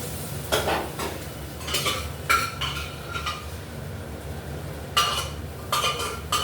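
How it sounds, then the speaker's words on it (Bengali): Salt-boiled chana dal goes into a hot pan and is stirred with a metal spoon, giving close, repeated clinks and scrapes against the pan over a light sizzle, with no talk. "সিদ্ধ করা ছোলার ডালটা দিয়ে দিচ্ছি এর মধ্যে"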